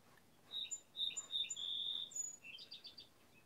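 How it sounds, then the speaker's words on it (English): Birds chirp outdoors on a summer day, several bright, quick tweets close together and then a run of rapid trills. The calls are fairly faint and sound alone over a quiet background. "Can you hear all the birds?"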